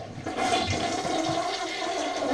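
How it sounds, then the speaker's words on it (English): A toilet in a vacation house being flushed with its fill valve shut off, a steady loud rush of water swirling down the bowl for the whole stretch, close by with no talking. "Give it a flush."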